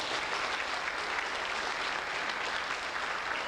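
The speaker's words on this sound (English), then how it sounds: "Let's give her a big round of applause." An audience claps steadily throughout, a dense, even wash of applause at moderate level with no voices over it.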